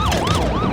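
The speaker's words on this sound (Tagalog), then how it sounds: "May dumating na mobil ng pulis." A police car siren wails in a steady rising and falling sweep, loud and close, filling the whole moment with no voices over it.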